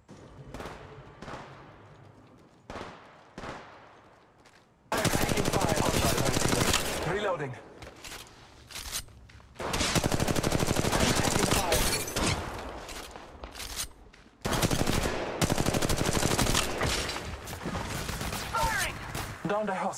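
Automatic weapon fire from the Apex Legends video game arrives in several loud, dense bursts of rapid shots. Sparse single cracks come first, followed by sustained sprays broken by short pauses.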